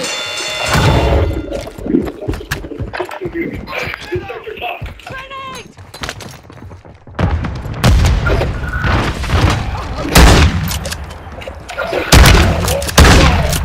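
Video game gunfire with booming thuds and crashing bursts throughout, loud and dense, mixed with game voices and music-like tones, heaviest in the second half.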